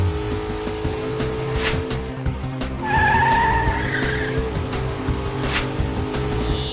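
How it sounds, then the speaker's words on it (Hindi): A car skidding when its brakes fail, a loud tire squeal partway through over a rushing, roaring background, with no speech. "गाड़ी रोक हनी। ब्रेक काम नहीं कर रहा है।"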